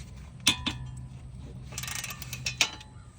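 Bolts being tightened on the front wheel hub of a 2018 Subaru WRX produce sharp metallic ratchet clicks and clinks in a few separate bursts, close and fairly quiet, with no talking.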